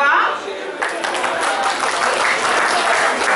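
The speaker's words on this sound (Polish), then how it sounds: "Czy były gorące brawa? Teraz na pewno." Warm applause from a festival audience at a chicken soup (rosół) cooking festival in Łapanów, Poland, steady dense clapping filling the whole stretch with a murmur of crowd voices underneath.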